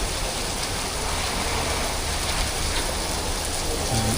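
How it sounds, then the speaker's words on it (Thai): Heavy rain pours steadily on a street at Siam Square, Bangkok, a dense, constant hiss of drops hitting surfaces with no break in intensity. "โอ้ลมไอฝนตกแรงมากทุกคน"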